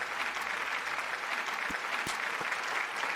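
Applause sound effect played during a video game stream, a steady, moderately faint bed of crowd clapping that continues throughout, with a few soft low thumps underneath.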